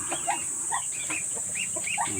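Lively little ducklings cheep in quick high-pitched bursts over a steady high hiss, a busy brood heard close by.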